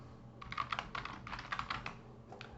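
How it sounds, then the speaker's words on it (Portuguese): Typing on a computer keyboard, quick irregular bursts of light key clicks, close and soft, with short pauses between clusters of keystrokes. "E agora eu vou digitar aqui pontalete."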